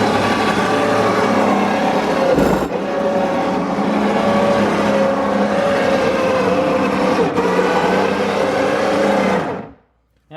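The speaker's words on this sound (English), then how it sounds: "you can see the turret drive mechanism works pretty good" A 2/5 scale Sherman M4A3E8 tank model's turret drive mechanism, driven by a sprocket, runs with a steady whirring motor drone and brief clunks before stopping near the end.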